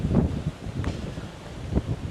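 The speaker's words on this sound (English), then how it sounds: "But this place is just really chilled apart from the wind." Gusty wind blows through a large city park in Manila during a typhoon, a low rumbling buffet of air with rustling gusts against the microphone, steady and fairly close, with no talking.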